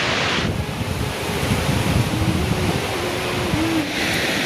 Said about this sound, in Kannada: ನೋಡಿ ಇವಾಗ ಫಾಲ್ಸ್ ಹತ್ತಿರ ಬಂದಿದ್ದೀವಿ